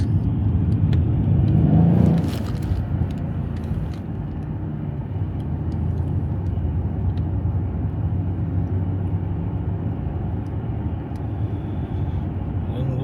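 A car pulls out of a roundabout, its engine rumbling low and steady inside the cabin, with a brief louder surge at the start before settling into constant road noise.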